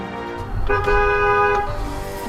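A car horn blares in one long, loud, steady honk of nearly a second, preceded by a short toot, heard from inside a car amid road rumble.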